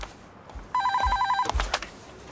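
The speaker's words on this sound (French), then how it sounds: "Ton téléphone sonne." A telephone rings with a rapid electronic trill in one clear burst of about three-quarters of a second, fairly close, followed by a few soft knocks and handling noises.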